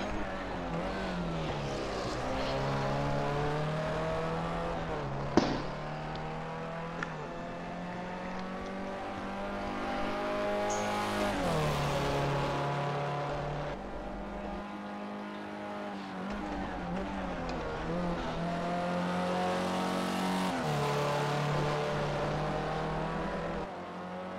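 Several race cars in a racing video game on a flying lap, engines droning steadily with harmonic whine that rises and falls through gear changes, sustained and fairly loud throughout without talk.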